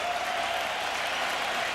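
The Wrigley Field crowd cheers at two strikes during the 2003 Cubs–Braves NLDS playoff game, a dense, steady roar of noise and applause that fills the stadium without a break.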